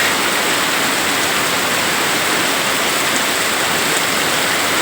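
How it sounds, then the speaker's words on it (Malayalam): Heavy rain pours down in a loud, steady, unbroken hiss that fills the whole stretch without a pause, with no voices over it. "നല്ല മഴയാണ് കേട്ടോ."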